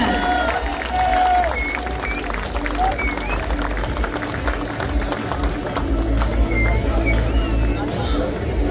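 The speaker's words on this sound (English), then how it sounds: "A big round of applause." A rugby crowd at a trophy presentation for Kandy Sports Club claps and murmurs in scattered applause, while a voice talks over the noise throughout.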